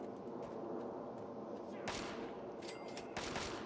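Gunfire in Fallout 3 comes as several sharp bursts over a steady noisy background, with a person talking across part of it.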